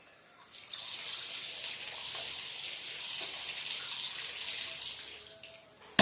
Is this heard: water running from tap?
yes